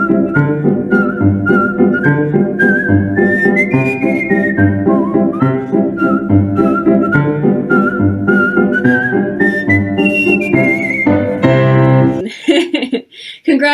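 Clear, loud solo competition whistling at a global whistling championship carries a lilting melody with rising and falling runs and some accompaniment beneath, ending abruptly with brief cheering.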